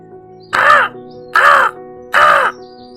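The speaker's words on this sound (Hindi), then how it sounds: "अच्छा, तो क्या कह रहा है ये कौवा?" A crow caws three times in a steady, evenly spaced series, each call loud, harsh and close, with quiet pauses between.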